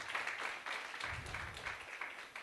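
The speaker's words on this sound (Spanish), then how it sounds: "Dele un aplauso a Cristo." Faint applause from a church congregation during a worship service, a soft, uneven patter of clapping with a low rumble partway through.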